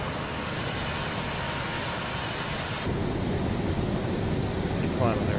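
A Boeing 727 airliner climbs in Microsoft Flight Simulator, a steady, loud engine and cockpit drone that shifts in tone midway, with talking over it.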